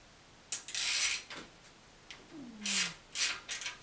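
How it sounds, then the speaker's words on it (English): A 10 mm Allen wrench turns out the oil drain plug on a pump, giving several short, close metallic rasps and scrapes in bursts separated by brief pauses. "a 10 millimeter Allen wrench will remove the drain plug"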